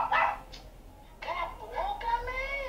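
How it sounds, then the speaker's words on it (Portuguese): A dog barks in several short, sharp yips and whining barks at close range, with brief pauses between them and a whimpering tone. "Cachorro latindo, tá vendo? Tá latindo demais."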